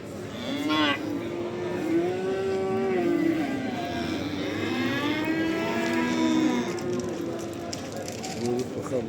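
Calves at the Barda cattle market moo repeatedly in long, drawn-out calls, some overlapping, over a background of market noise with people talking.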